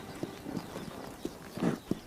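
Hooves of a wild horse clip-clop at an irregular walking pace, several separate soft thuds with one heavier double strike near the end, moderately close over a quiet outdoor background.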